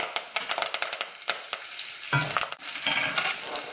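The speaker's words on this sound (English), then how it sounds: "add the ginger and curry leaf. Be careful, curry leaves splatter, so just stay away." Ginger and curry leaves hit hot oil with asafetida while cooking Sindhi kadhi, giving bursts of crackling and spattering sizzle mixed with quick stirring scrapes, close and alone.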